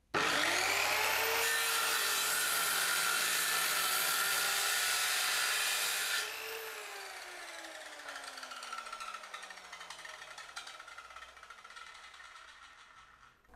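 An iMAX 7-inch corded circular saw cuts through hard rubberwood about 4 cm thick with a loud, harsh, steady screech. The cut then ends and the motor whines down gradually to a stop, with no talking.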